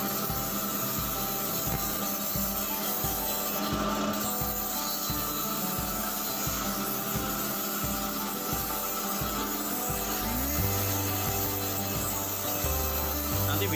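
An electric sharpener fitted with grade 100 sandpaper grinds bamboo skewers, making a continuous abrasive rasp with a rapid pulsing rhythm, and its motor tone shifts pitch toward the end.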